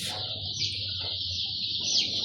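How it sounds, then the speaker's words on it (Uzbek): Fifteen-day-old Andijan black chicks chirp in a steady, high-pitched stream of peeping, fairly close, with a faint low hum underneath. "Andijon qora jo'jalarimiz."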